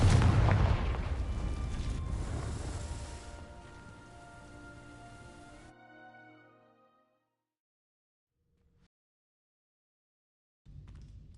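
In Hogwarts Legacy, a Confringo fire spell bursts onto dry vines with a loud crackling whoosh that roars at first, then fades over several seconds into quiet, with a short sound returning at the end.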